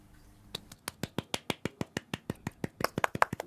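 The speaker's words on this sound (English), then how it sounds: "Politely clapping for Julia I." A small group claps politely in a steady, even rhythm of about twenty sharp, separate hand claps, close and moderately loud, for a proper young lady of the early 1800s being introduced.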